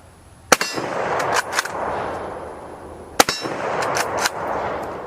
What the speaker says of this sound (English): I'm having a lot of fun shooting this Mosin, so we're just gonna fire a few more downrange.